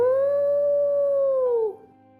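A single long, sustained canine howl, as of a jackal used as a sound effect in a moral story, rises clear and loud, holds its pitch, then drops and fades out near the end.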